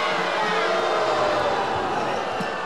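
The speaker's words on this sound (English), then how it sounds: "you heard the reaction of the crowd as they played it on the big screen" A volleyball arena crowd at a Hawaii versus Long Beach State men's match reacts to a replay on the big screen, a loud, sustained roar of many voices filling the hall throughout.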